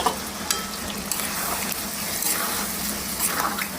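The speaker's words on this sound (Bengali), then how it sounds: "এর মধ্যে আমরা একটু জল অ্যাড করব" Chicken ghugni masala sizzles loudly as water is added and stirred in, with a steady hiss and occasional scrapes of a spoon against the pan throughout.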